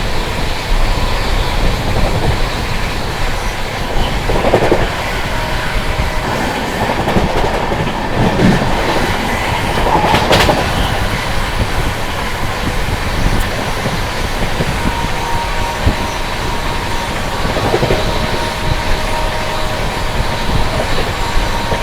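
The Sealdah New Delhi Rajdhani Express rumbles along the rails, heard loud and continuous from inside, with clickety-clack wheel beats and a few sharp metallic clicks throughout.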